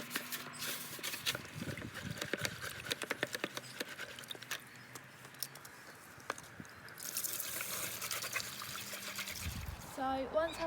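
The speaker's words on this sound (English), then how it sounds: "So once I'm filling up the water bucket" Water patters and trickles into a horse's water bucket at a barn, a steady splashing stream with scattered drips and knocks, close by and fairly loud, with a brief gush near the end.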